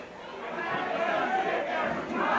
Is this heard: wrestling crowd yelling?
yes